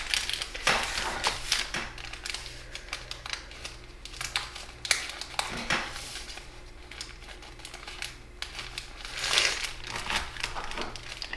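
Paper folded step by step into Satoshi Kamiya's origami fiddler crab, close crinkles and crisp creasing crackles come in uneven bursts, with a louder crumpling swell near the end.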